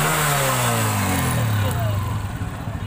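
A 2017 model motorcycle engine revs at a Sunday bike market in Karachi, the pitch sliding down as the revs drop before it settles into a steady, fairly loud running note, heard close.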